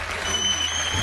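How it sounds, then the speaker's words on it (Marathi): An audience at a televised Marathi music competition show applauds in a brief, dense, continuous burst of clapping, loud and close with no pauses. "आपण एकदा प्रियांकासाठी खूप जोरदार टाळ्या वाजवू"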